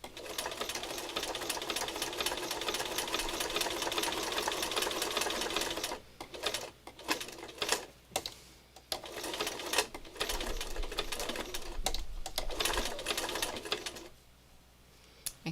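A domestic sewing machine stitches fabric in a fast, steady mechanical whir, running continuously at first, then in short stop-start bursts with brief pauses, close and fairly loud.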